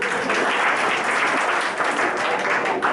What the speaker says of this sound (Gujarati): આપણે આ લોકોને તાળીઓથી વધારી લઈએ.